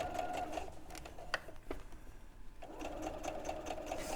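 A sewing machine runs steadily while understitching a bag pocket seam about an eighth of an inch from the edge, a continuous close whirr that drops out briefly for a few clicks before running on again.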